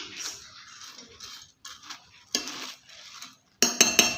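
Spoon scraping and clinking in a metal bowl as churumuri ingredients are tossed with oil, soft irregular stirring followed by a few bright metallic clinks near the end.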